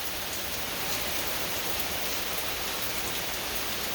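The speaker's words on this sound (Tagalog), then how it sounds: "Ulan, ulan, ulan." Heavy rain pours steadily in the woods, a dense, loud, unbroken hiss of drops striking leaves and ground with no gaps and no voices.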